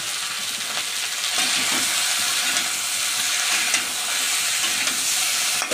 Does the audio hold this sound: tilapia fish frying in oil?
yes